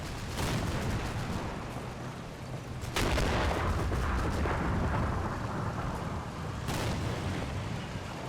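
Booming explosions and bursts of gunfire rumble continuously in the video game Combat Mission: Battle for Normandy, with a heavy blast around the middle and another near the end, dense and loud throughout.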